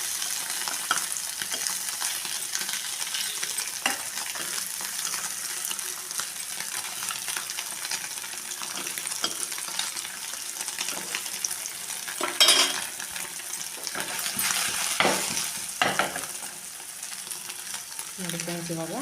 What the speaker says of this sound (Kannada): ಇವಾಗ ಪನ್ನೀರು ಫ್ರೈ ಆಯಿತು